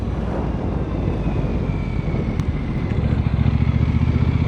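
A Brixton Cromwell 1200 motorcycle engine revs hard toward its limiter, a loud, close roar that holds high and then settles into a deeper, pulsing throb near the end, with some wind noise over the microphone.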